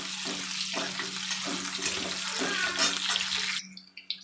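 Pointed gourd pieces frying in hot oil for a rohu fish curry with potato, a steady close hiss and sizzle with crackling spatters that drops away near the end.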